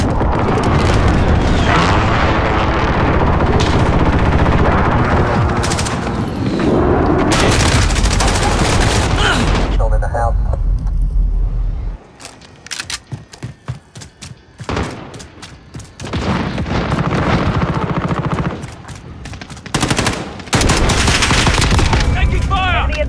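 Gunfire in Call of Duty Modern Warfare 2019 on the Arklov Peak map during team deathmatch: loud bursts of automatic fire and booming explosions, heavy volleys separated by quieter gaps with single shots, and game voices calling out.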